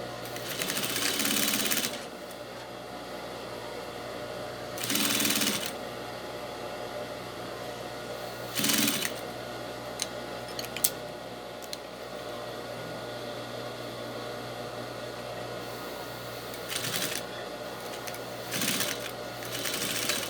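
A sewing machine stitches bias binding onto a fabric card holder in short loud whirring bursts with quiet pauses and small clicks between them, close up.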